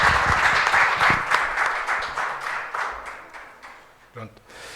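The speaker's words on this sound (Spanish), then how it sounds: "Un aplauso para romper un poco el hielo." An audience at a gallery talk on self-managed art spaces applauds to welcome a speaker, dense clapping that gradually thins and fades, with a few voices and a brief thump near the end.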